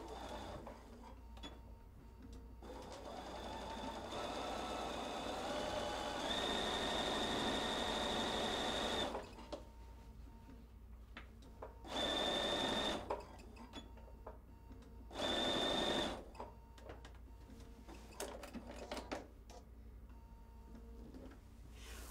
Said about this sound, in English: I'll see you at the sewing machine and I'm gonna stitch this on.